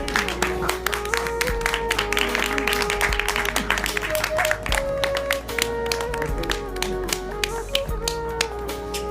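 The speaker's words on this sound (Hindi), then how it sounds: "उनके लिए जोरदार ताली" An audience at a prize distribution ceremony claps for an elderly exam participant, producing dense, continuous sharp claps at a steady level, with tonal background music underneath.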